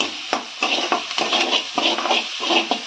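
Onions sauté in a pan for chutney, a close sizzle under repeated scraping strokes of a spatula stirring in a steady rhythm.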